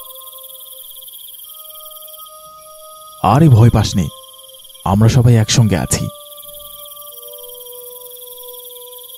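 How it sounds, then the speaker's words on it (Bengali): Steady, high-pitched cricket chirping fills a night scene in a spooky Bengali cartoon, running continuously in the background while a character speaks briefly in two short bursts. "চারপাশে ঝিঝি পোকার ডাক ছাড়া আর কোনো শব্দ নেই।"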